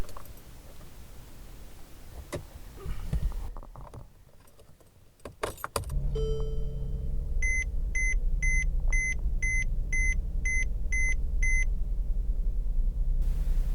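A car's dashboard warning chimes in a regular series of sharp, evenly spaced beeps after some handling noises and a quieter start, over a low steady hum.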